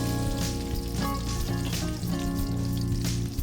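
Chana dal, urad dal and mustard seeds roast in hot oil for kakarakaya fry, a dense, loud crackling sizzle with a steady low hum running underneath throughout.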